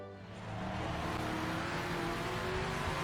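A race car engine in the video game Project Motor Racing drones loudly and steadily after a brief rise, and a high whine climbs gradually as the car accelerates.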